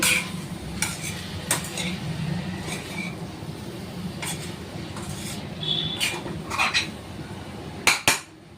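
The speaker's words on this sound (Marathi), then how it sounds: "ह्याच्यामध्ये ऑरेगानो आणि चिली फ्लेक्स घालून घेतलेत मी त्याला ढवळून घेऊ" A spoon scrapes and clinks through bell peppers with oregano and chili flakes in a pan on low heat, sharp metallic strokes spaced irregularly over a soft continuous background, ending in a couple of louder taps.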